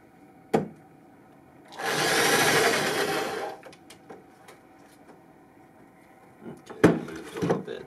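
A brad point bit drilling into wood at the seam between two clamped pieces gives one steady whirring bore of about two seconds, with scattered knocks and handling clatter before and after.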